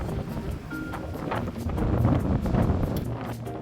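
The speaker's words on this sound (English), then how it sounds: "It really was a day for the wind, like there was no shelter there." Strong wind buffeting a microphone on an exposed Rattray Head coast in Aberdeenshire, Scotland, while fishing: a steady, loud low rumble and gusting rush with surf-like noise and no clear voices.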